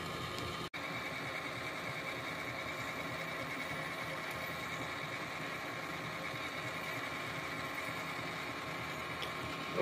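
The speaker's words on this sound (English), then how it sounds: "We'll go ahead and drill this all the way through." A milling machine drills a pilot hole all the way through a workpiece, giving a steady, continuous mechanical whir and hum throughout with one brief click near the start.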